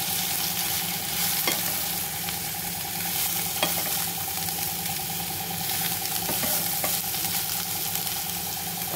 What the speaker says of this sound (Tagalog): Nagisa ko na po siya sa sibuyas at bawang